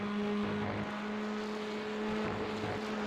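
TCR touring car engine in a sim racing game at Road America, a steady moderate drone with a held pitch that dips briefly at the kink, no voices.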